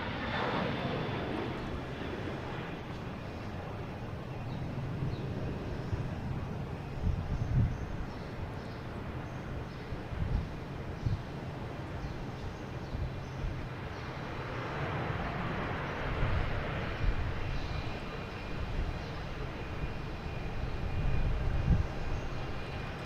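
A Korean Air airliner taking off at Boston Logan Airport, its jet engines a steady broad roar heard from a distance that swells and rumbles continuously throughout.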